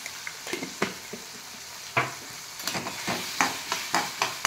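Onions with salt frying in a pan on a stove and being stirred: a steady close sizzle broken by repeated sharp scrapes and spoon knocks at an irregular rhythm, no voices.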